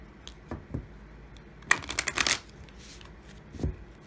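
Color Goddess casting cards are shuffled by hand in a few quick bursts, a brief riffle followed by a denser flurry of card slaps and a final short shuffle, close and clear with no talking.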